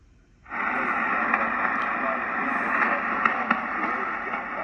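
Broadband static hiss from a National NC-300 receiver tuned to the 40 m band, switching on abruptly and then holding steady and loud with faint crackles.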